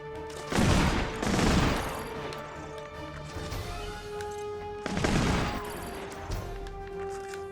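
Alternate fire from the C-41 concussion pistol in the video game Advent Rising comes as two pairs of heavy, rolling blasts, each burst crackling and booming before trailing off under a constant game soundtrack.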